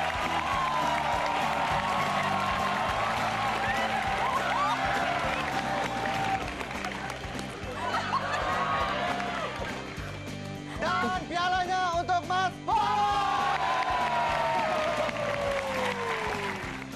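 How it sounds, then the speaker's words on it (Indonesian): A stand-up comedy show audience claps and cheers throughout, a dense, continuous crowd roar with scattered shouts and tonal whoops rising over it. "Oke, tepuk tangan buat Mas Polo"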